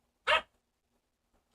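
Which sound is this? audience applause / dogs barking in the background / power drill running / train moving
dogs barking in the background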